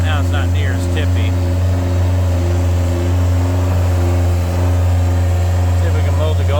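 A Kubota zero tail swing machine fitted with a mower attachment runs with a steady, close, low engine drone that holds an even pitch throughout.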